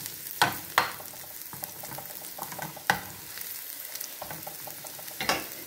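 Two cloves of garlic and thinly sliced onion frying in a little oil in a pan: a soft, fairly quiet sizzle broken by several sharp spatula scrapes and clacks at irregular moments.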